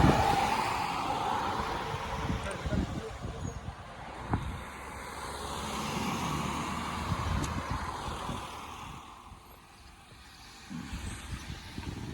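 A car climbs a hill on a Golan Heights road trip, its engine a low, steady drone under rumbling road noise, easing off briefly near the end.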